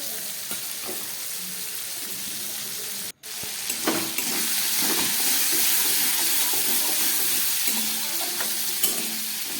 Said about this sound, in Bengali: এই তেলের মধ্যে দিয়ে আমি চিংড়ি মাছটাকে খুব ভালো করে ভেজে নিচ্ছি